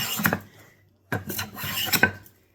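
A hand plane takes shavings off a board, giving two brief rasping strokes about a second apart, each a scraping hiss with light metallic edge, close and fairly quiet with a pause between.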